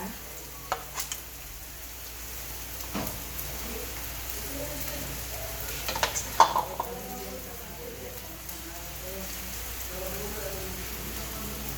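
Leftover bitter melon dish being reheated in a pan, a soft steady sizzle with occasional clinks and stirring scrapes, while a person talks over it.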